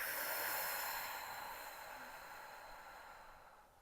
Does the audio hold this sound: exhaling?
yes